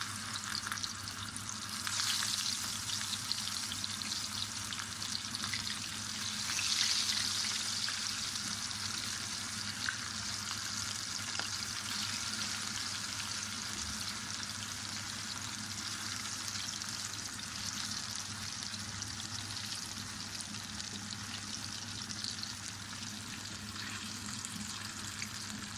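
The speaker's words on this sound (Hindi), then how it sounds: "तेल में मछली डालते वक्त इस बात का ख्याल रखें कि बहुत ज़्यादा इसमें चम्मच नहीं हिलाना।" Spice-coated fish pieces fry in a pan of oil, giving a long unbroken sizzle with gentle crackling that stays close and fairly even throughout, with no talking.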